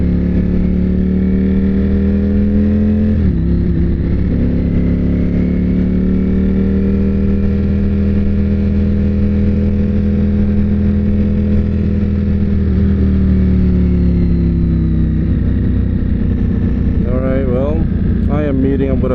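Ducati Panigale V4S motorcycle engine running a T800 map and accelerating, a loud close riding drone with rising and shifting tones, steady wind rush, and a voice talking over it near the end.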